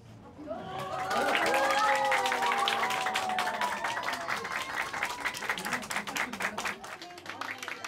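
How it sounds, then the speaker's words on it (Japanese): Applause and cheers break out at a Tokyo governor election candidate's campaign office after the win; voices rise first, then a crowd of clapping swells loud and stays dense, with shouts mixed in before slowly thinning. "拍手と歓声が起きたのは291万票以上を獲得し当選した小池氏の事務所です。"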